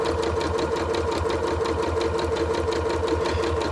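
Sewing machine chain stitching quilt pieces, a continuous fast whirring rattle of the needle running close and loud without a break and with no talking.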